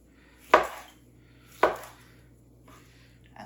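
Two sharp knife chops cut food into bite-size pieces on a board, spaced about a second apart, with a faint third tap at the end in a quiet kitchen.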